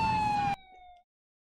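Police siren in the video game GTA 4, a short, loud, steady electronic wail that cuts off abruptly, leaving a faint fading tone.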